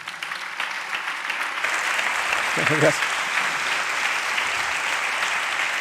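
At a talk on cognitive science, an audience breaks into steady, full applause that swells and holds for several seconds, with someone briefly speaking over the clapping.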